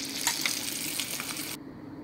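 Pakkavada made from leftover idli batter frying in hot oil, giving a steady, close, broadband sizzle that cuts off abruptly near the end.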